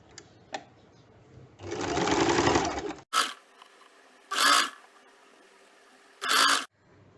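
A sewing machine stitches a fabric strip onto a cloth bag in three close bursts, one longer run followed by two short ones, with quiet handling pauses between.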